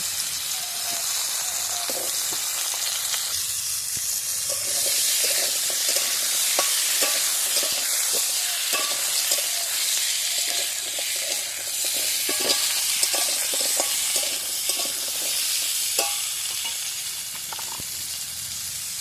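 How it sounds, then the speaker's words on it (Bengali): Cut potatoes frying in a pan after fish, a continuous hissing sizzle with frequent scraping stirs and occasional clacks from a spatula, close and steady for the whole stretch. "এবার যে আলুগুলো কেটে রেখেছিলাম মাছের জন্য, সেই আলুগুলো আমি একটু ভেজে নেব।"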